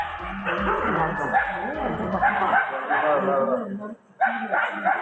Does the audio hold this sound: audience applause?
no